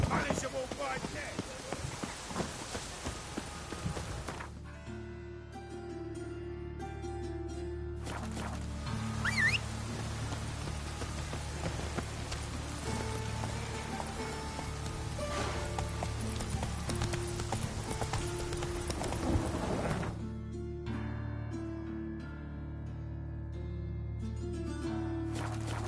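Roach, a horse in the video game The Witcher 3, gallops with steady clip-clop hoofbeats that run through most of the stretch, set against game music and ambience, with a voice heard at times.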